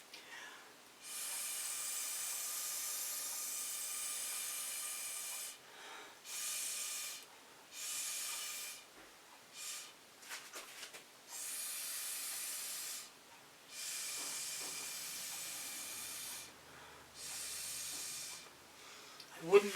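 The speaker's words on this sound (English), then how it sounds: "So I'm going to keep blowing into it." Someone blowing into a fluid acrylic paint pour in repeated breathy gusts, each lasting a second or two, separated by short pauses, soft and close with a faint mouth click near the end.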